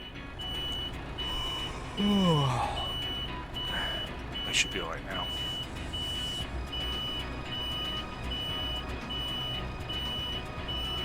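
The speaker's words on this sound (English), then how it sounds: "Sorry about the beeping." A truck's reversing alarm in the Euro Truck Simulator 2 video game sounds as a steady run of repeated high beeps under engine rumble, while someone talks over it.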